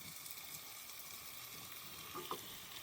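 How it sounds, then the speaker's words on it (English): Chopped fresh tomatoes go into a pan of sizzling garlic for homemade spaghetti sauce, producing a quiet, even frying hiss with a couple of soft clatters near the end and no speech. "now we can add our chopped tomatoes"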